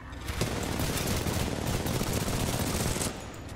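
Rapid automatic gunfire rattles in the video game Titanfall 2, a dense, loud, unbroken burst lasting about three seconds before it eases off.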